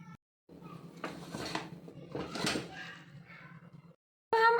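A pressure cooker with cooked arbi being opened after its steam has been released, with metallic scraping and lid clatter in two main bursts, a brief silent gap, then a sharp clank at the end.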